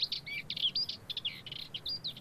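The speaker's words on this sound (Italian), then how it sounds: "la magnanina che canta in questi cespugli preparandosi a nidificare" A Dartford warbler sings from bushes on Giglio island, a rapid run of scratchy, chattering high phrases repeated without a break, close and fairly clear over faint low background rumble.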